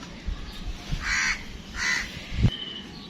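Crows on a rooftop give two loud, harsh caws close by, with a soft thump near the end and no talking.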